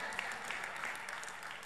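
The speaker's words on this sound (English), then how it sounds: "clap it up" Dense audience applause from a large crowd at a live conference presentation, steady and sustained throughout the brief moment.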